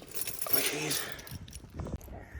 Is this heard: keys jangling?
yes